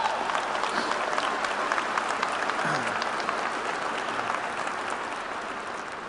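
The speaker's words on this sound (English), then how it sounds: "I think that's worthy of a round of applause, don't you?" A high school graduation audience applauds, a dense, steady wash of many hands clapping that fills the hall and slowly fades toward the end.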